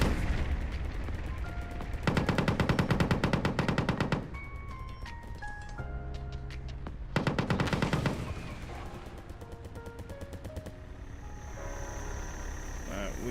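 Tanks firing anti-air guns upward in a strategy video game, rapid rattling bursts of automatic fire in long rhythmic volleys with sharp game sound effects in between, loud and continuous.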